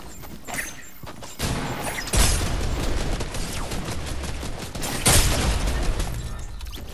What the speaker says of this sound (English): Who's using the rocket launcher?